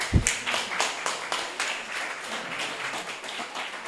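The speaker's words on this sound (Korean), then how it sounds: "그러니까 박수 한번 부탁드리겠습니다." An audience at a King Sejong birthday celebration claps for a few seconds, a moderate patter of many hands fairly close, fading slightly toward the end.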